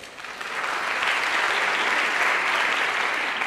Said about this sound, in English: You can all clap for them.